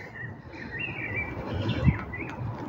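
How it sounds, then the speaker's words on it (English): Birds chirp and warble softly over a steady hiss of light rain pattering outdoors, with a low distant traffic rumble underneath. "I can hear the gentle pattering of raindrops and the birds."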